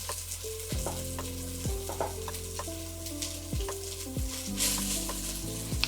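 Rice frying and being stirred with caramelized vegetables in a pan for five-ingredient fried rice, a steady close sizzle broken by repeated scraping strokes of the utensil, with no voices.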